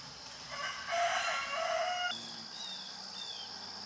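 A rooster crows loudly and chickens cluck nearby in a vegetable garden, the crow drawn out and prominent, followed by softer clucking with no talk.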